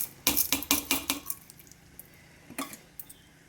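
Washed, roasted horse gram is tipped from a vessel into a cooking pot with a quick cluster of close clinks and rattles. A few softer knocks follow after a pause.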